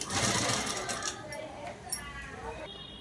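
Sewing machine stitching a loose seam on leftover cloth, a steady close mechanical whir that fades after about a second, with a voice talking over it.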